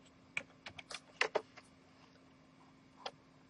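Several quick, faint key taps on a computer keyboard, clustered in a short run, then one isolated tap after a pause over a low steady hum.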